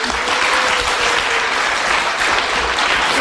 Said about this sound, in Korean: 박하재영님께 큰 박수 부탁드립니다.